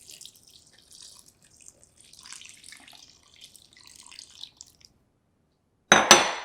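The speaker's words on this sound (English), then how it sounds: "Then I add the water." Water at 80 degrees Fahrenheit is poured into a bowl of sourdough bread dough ingredients, a faint, sparse trickle and drip sounds, followed by a short, louder splash at the end.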